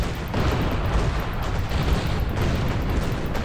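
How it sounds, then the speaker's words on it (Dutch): Cannon fire in the video game Gun, a run of dense booming blasts that fill the whole stretch at steady loudness with no clear gaps between shots. "US cannon."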